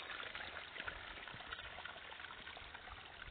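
Water trickles and flows beside a village road in San Jerónimo Nuchita, a soft continuous gurgling rush heard close but faint, with no voices.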